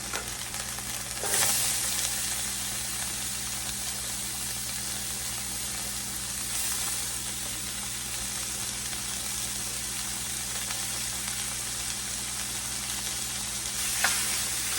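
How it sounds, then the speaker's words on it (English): Sliced peppers and onions fry in hot meat juices in a pan, a loud continuous close sizzle with occasional stirring bursts and no talking. "We're gonna throw all of our peppers and our onions in here."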